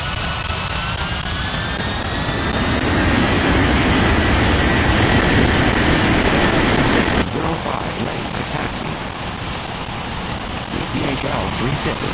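A cargo jet in an air traffic control video game spools up and roars down the runway for takeoff, a loud broadband engine rush that swells and holds, with a radio voice talking over it.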